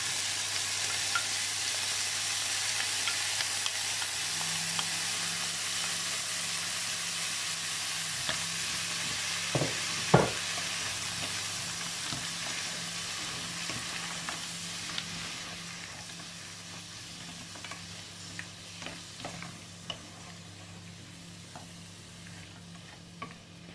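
Frozen mushrooms fry in a pan with leftover chicken, a soft, even sizzle running throughout, with occasional stirring clicks and scrapes of a utensil, close and quiet.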